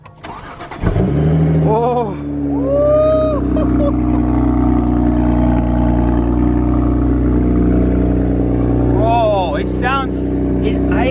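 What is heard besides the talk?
BMW 335is engine first startup and idling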